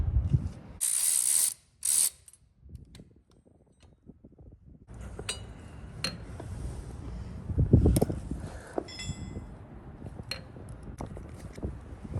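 Bolts being removed from the brake lever on a custom Harley-Davidson Softail Bad Boy with forward controls: close ratchet clicks and metallic clinks in short bursts, with rattling handling noises in between.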